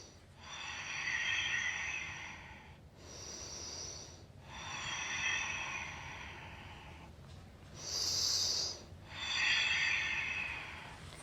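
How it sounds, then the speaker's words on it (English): Slow, deep breaths in a yoga class, four or five long airy inhales and exhales close to the mic, each swelling and fading in a steady rhythm with short pauses between. "Take a few deep breaths here."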